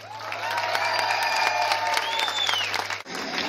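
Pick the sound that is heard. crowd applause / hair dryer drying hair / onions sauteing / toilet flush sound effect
crowd applause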